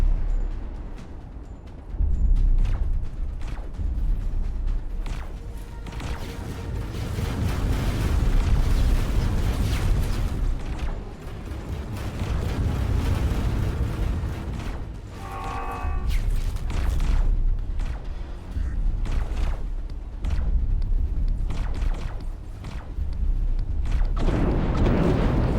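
A Xenon K capital ship blowing up in the space game X4 Foundations while a defence platform's plasma turrets fire, a long rolling series of heavy booms and bursts, loud and sustained, with crackling blasts throughout.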